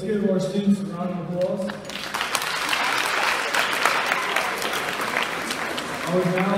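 An assembly audience applauds students, a dense, steady wash of clapping swelling in after a few seconds of talk and filling the rest of the clip, with speech at the start and end.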